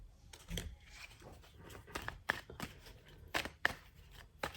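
A deck of tarot cards is shuffled by hand, soft papery riffles and taps in an irregular rhythm, close and quiet, with no voices.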